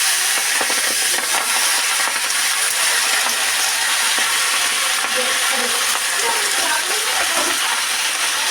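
Malabar spinach and potato hit hot oil in a kadai, giving a steady, loud, broadband sizzle that continues for the whole stretch, with faint scrapes and clinks underneath.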